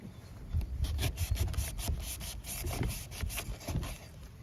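A bushcraft knife sawing through Soviet abrasive rope, a close rhythmic rasping scrape repeated in quick strokes without speech.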